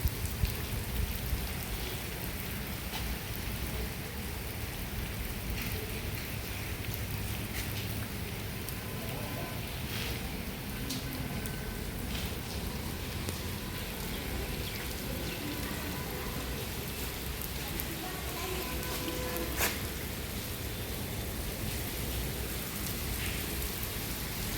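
Steady rain pours down continuously outdoors, a dense even hiss of drops on surfaces that holds unchanged from start to finish with no breaks.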